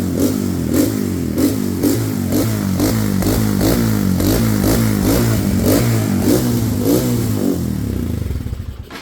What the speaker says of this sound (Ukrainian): Давайте зараз погазуємо і подивимось, димить він чи не димить